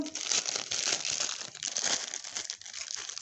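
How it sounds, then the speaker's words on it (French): Plastic packaging of a diamond painting kit crinkles and rustles loudly and continuously as it is unpacked up close, with no voices. "Alors, on va déballer tout le kit ensemble."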